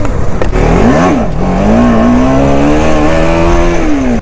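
A Kawasaki Z900 motorcycle with a full-system exhaust revs hard and loud, the engine note climbing, dipping, then holding a long high drone before easing off, heard up close without talk.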